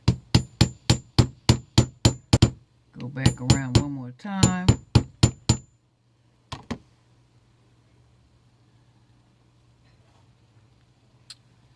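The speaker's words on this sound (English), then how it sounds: "I'm going to reinforce and strengthen the actual ring with this hammer and anvil" A metal hammer strikes a jewelry ring on an anvil in a rapid, loud, ringing series of about a dozen blows. A man's brief speech follows, then a few more scattered taps fade out near the end.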